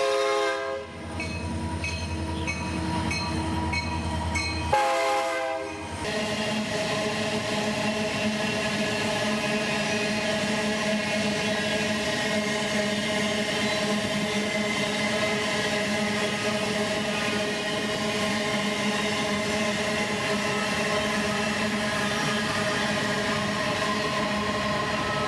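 A heavy freight train on the Carajás railway sounds a loud sustained warning horn for a few seconds, then its long string of wagons rolls past with a continuous rumbling, clattering roar at close range.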